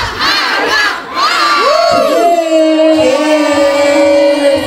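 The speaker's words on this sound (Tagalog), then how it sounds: "Sumisigaw ng What Arizona!" A crowd at a kick-off party shouts together loudly in a sustained, chant-like cry, voices rising and holding steady throughout with no separate speech.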